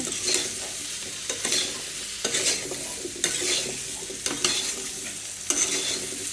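Pointed gourd sautés in a hot pan under a constant sizzle, with a spatula scraping through it in rhythmic strokes roughly once a second, close up and without speech.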